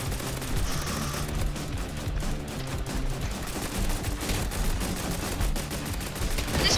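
A ray gun in the Roblox game Mad City fires in a rapid, continuous stream of shots, loud and dense throughout with a sustained low rumble underneath.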